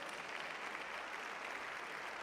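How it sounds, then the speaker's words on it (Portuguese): Faint, distant applause from a church congregation, a soft continuous wash of clapping with no clear individual claps. "Pode aplaudir o Senhor."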